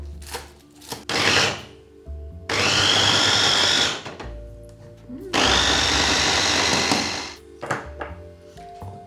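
Spring onions with their stems coarsely minced in a food processor or blender, in two long loud whirring bursts separated by short pauses and a few brief pulses.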